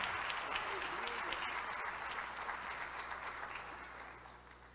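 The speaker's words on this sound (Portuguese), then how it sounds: "Dá um aplauso a ele aí para você" Church congregation applauding in a steady, dense wash of clapping that fades slightly toward the end, with faint voices mixed in.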